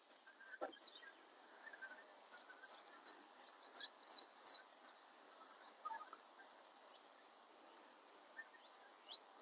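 Faint outdoor birdsong in a wood: a chiffchaff repeating a rhythmic series of high, even chirps, with a few other distant calls around it.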